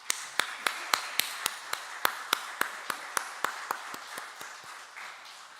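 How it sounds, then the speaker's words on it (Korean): Encouraging applause in a church, heard as a run of crisp, evenly spaced claps, about twenty in a steady rhythm, fairly close and gradually softening. "우리 격려의 박수를 보내드리겠습니다."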